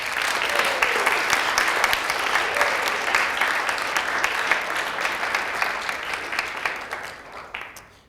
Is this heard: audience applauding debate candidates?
yes